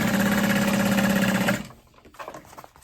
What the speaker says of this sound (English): I'm just gonna sew, starting at the waterproof canvas, back stitch, go across the bottom